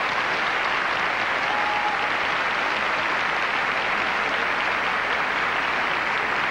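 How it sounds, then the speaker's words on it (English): Dense, sustained audience applause fills the hall at the 1990 Miss Georgia pageant, loud and steady from start to finish without a break. "Let's give them a round of applause."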